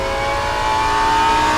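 Race car engine in rFactor 2 revving hard with on-off throttle, a loud steady high-pitched whine held close throughout, rising slightly toward the end with no talk.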